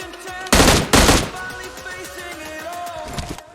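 Video game gunfire while taking out enemy teammates: two loud bursts of rapid automatic fire up close, followed by softer clattering game effects and thuds with no talk.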